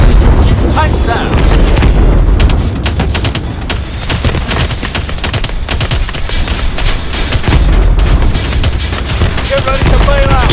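Heavy cannon fire at tanks in Call of Duty: Advanced Warfare, a dense, loud barrage of booming blasts and rapid gunfire that runs throughout, with radio voices mixed under the battle noise.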